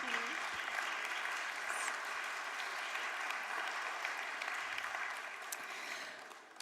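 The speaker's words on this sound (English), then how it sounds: "Big applause." Steady, sustained applause fills a hall at a green awards ceremony, a dense wash of clapping from a large audience that holds evenly throughout and tapers slightly at the end.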